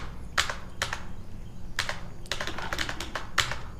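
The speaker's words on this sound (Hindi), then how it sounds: "यहाँ से कीबोर्ड से सेल्स की एंट्री चालू करने के लिए" Keyboard typing while entering sales data in Tally Prime accounting software: bursts of quick key clicks in small clusters separated by short pauses, fairly close, over a low steady hum, with no talking.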